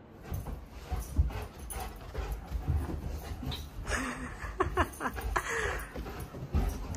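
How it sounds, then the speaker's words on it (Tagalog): Indoor dog at home making whimpers, short yips and a few excited barks amid low room rumble and scattered movement noise. "Aso pa lang yan."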